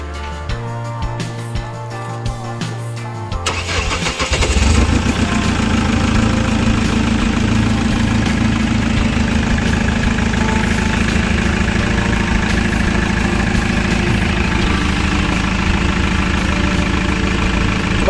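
A Chevrolet Captiva diesel, left unused for a year and a half, cranks briefly and then catches, settling into a loud, steady, slightly knocking diesel idle close by that continues without a break.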